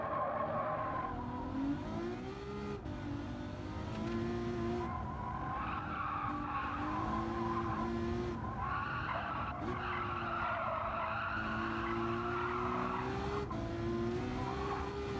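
A Ferrari race car in Gran Turismo 7 holds a steady engine drone with rising and falling revs, while tires squeal and skid almost continuously through corners, loud and close, with no talk.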